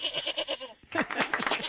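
A goat bleats in a comedy commercial, a run of short wavering cries followed by a longer, louder series of bleats, close and clear.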